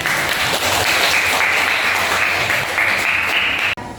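Classroom group claps hands together during an Arabic language teaching practice session, a steady continuous round of applause that cuts off abruptly near the end.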